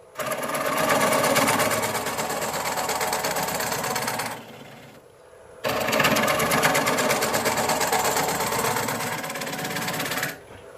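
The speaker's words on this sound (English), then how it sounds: "with this little baby scraper, I won't be able to put too much force in and, you know, break the bowl off the tenon again" A wood lathe spins a green wood bowl on a tenon while a small scraper cuts it, giving a dense, steady whirring grind. The whir runs in two long stretches with a brief quiet pause between them.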